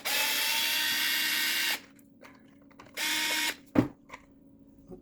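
Short bursts of a small power driver or drill working a rusted screw out of a KRUPS hand mixer during a teardown, two loud runs with quieter mechanical clicks and knocks between them, close up.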